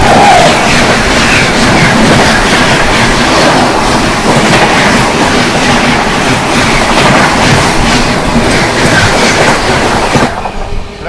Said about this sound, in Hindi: सामने से आ रही है आप लोगों की इंदौर भगत की कोठी रणथंबोर सुपरफास्ट एक्सप्रेस